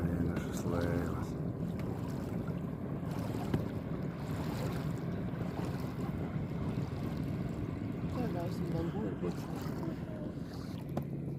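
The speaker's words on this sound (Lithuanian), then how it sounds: "Kažkur tolumoje plaukia vienišas laivas." A lone boat moves over the water in the distance on a windy morning, a low rumbling drone under wind and lapping water, with faint voices now and then.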